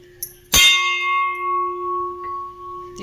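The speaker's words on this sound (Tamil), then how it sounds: "கோயில் மணி மாதிரி சவுண்டு கேட்குது வருங்க." One sharp strike on an antique brass vessel produces a sustained, resonant ring like a temple bell, decaying slowly over a few seconds.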